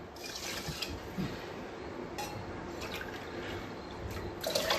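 Water poured from a cup onto two cups of rice in a cooking pot, a steady close splashing trickle that runs for several seconds with slight surges.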